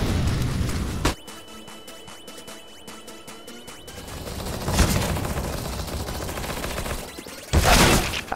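Rapid bursts of gunfire crackle and boom in short volleys, with a steady electronic tone and dense rattling in between, like game combat.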